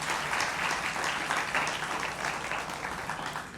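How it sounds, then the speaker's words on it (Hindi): A television studio audience claps steadily to welcome a guest, the applause dense and sustained for the whole stretch, with no voices over it. "एक बार फिर तालियों के साथ स्वागत करिए"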